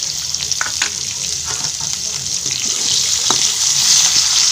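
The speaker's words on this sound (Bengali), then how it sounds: "পেঁয়াজ কুচিটাকে একটু ভেজে নিতে হবে।" Chopped onion frying in mustard oil in a wok, a steady loud sizzle with occasional stirring scrapes throughout.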